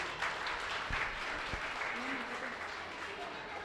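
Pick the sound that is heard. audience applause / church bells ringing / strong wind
audience applause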